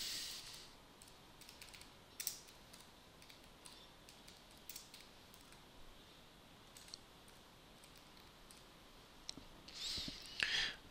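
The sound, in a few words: typing on a computer keyboard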